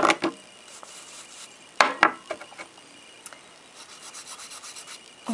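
A nail file rasping across the whole surface of a gel nail, in short scratchy bursts with pauses between, close and crisp, followed by a run of lighter rhythmic strokes.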